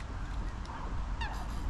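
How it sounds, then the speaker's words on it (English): Ducks at a park pond in the Warsaw Arboretum, giving a couple of loud honking calls close by over a steady outdoor background, with no talk. "Just looking at the ducks here."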